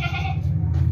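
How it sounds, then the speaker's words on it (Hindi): A sturdy, broad-chested male goat gives a single loud, close bleat lasting about a second, wavering throughout. "बहुत ही ज़बरदस्त बकरा है"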